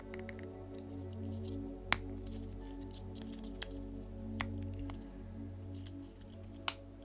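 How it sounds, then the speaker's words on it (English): A ball bearing is pressed into a plastic rear suspension part of a Blockhead Motors HotShot II RC buggy, giving a few sharp, close snaps spaced over a quiet room hum. "There we go, snaps into place. So there we go, we got a bearing on either side."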